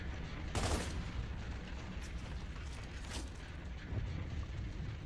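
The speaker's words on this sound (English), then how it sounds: "Oh, that's that machine gun pistol." Rapid gunfire from the Gorgon machine gun pistol in Gears of War 2 Horde Mode, with sharp repeated bursts over a dense, steady backdrop of battle noise.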